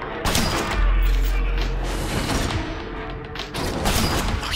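Dense, loud gunfire in the shooter game Killzone Shadow Fall, overlapping shots and booming impacts filling the whole stretch with no pause.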